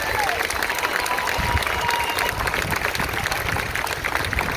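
Steady clapping from a crowd at a Black Lives Matter protest fills the clip, with voices talking over it.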